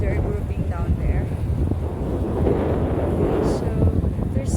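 Strong wind roars steadily across the microphone by the sea, with heavy waves churning beneath it as a continuous broadband rush, and a few faint bird calls briefly rise above it.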